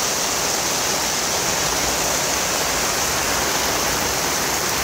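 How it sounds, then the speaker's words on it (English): A heavy downpour at a log cabin build site: dense, steady rain hisses and roars without a break, loud and close, with no voices. "Freaking downpouring."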